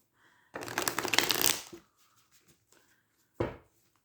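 Oracle cards are shuffled for a reading in a quiet room: a close, papery riffle runs for about a second, then a short second burst of shuffling follows after a pause.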